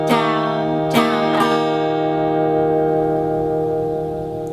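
Guitar chord from a song rings out with a few sharp strums near the start, then sustains and slowly fades, close and alone.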